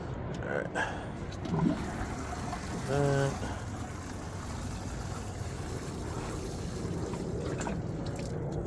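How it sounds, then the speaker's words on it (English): Water is poured onto banana plants after top dressing, a faint, steady trickling wash that runs through the whole stretch at low level, with a couple of brief tonal blips early on. "Just enough to water it in."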